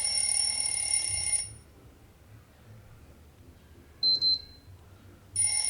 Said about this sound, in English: you have selected your alarm ringtone